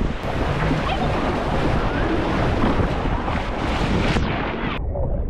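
Ocean surf in Tel Aviv, choppy waves washing continuously with heavy wind buffeting the microphone, loud and close throughout before cutting off near the end.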